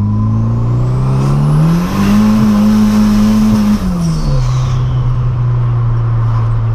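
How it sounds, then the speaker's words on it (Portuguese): A turbocharged car pulls hard in second gear, its engine droning loud and steady with rising revs, a brief dip and shift in pitch midway, then a sustained high note, with no talk. "Deixa eu dar uma puxadinha na segunda marcha aqui pra vocês antes de dar uma pausa no vídeo"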